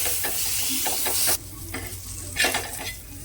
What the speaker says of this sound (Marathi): आणि ही मिरची ना चांगली अशी दाबून दाबून भाजून घ्यायची कुरकुरीत होईपर्यंत